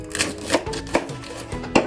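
Kitchen knife chopping through an onion on a board, five or six quick, hard taps in an uneven rhythm, close by and alone with no talk.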